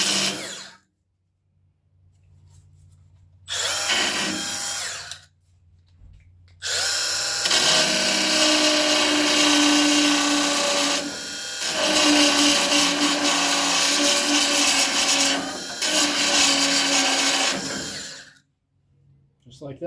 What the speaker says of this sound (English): That's how I remove spot welds.